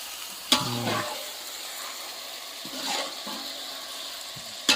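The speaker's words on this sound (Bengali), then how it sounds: "আগে একটু খুন্তিটা ধরে ভালো করে নাড়িয়ে দেবো" A spatula stirs meat in a pan, with a few brief scraping strokes and a soft sizzle over steady background hiss, close by and moderately quiet.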